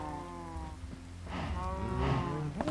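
Cows in the Minecraft video game moo in a few drawn-out, low bellowing calls, close and fairly loud, with one overlapping another toward the end.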